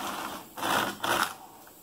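A Superba knitting machine set for circular knitting runs its carriage across in two quick back-to-back passes, each a short mechanical whirring swish, with quiet gaps before and after.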